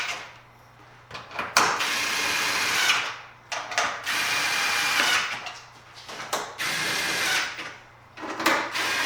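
A power drill on its lowest setting drives headlight screws on a 2008–2012 Chevy Malibu, whirring loudly and close in several bursts separated by short pauses.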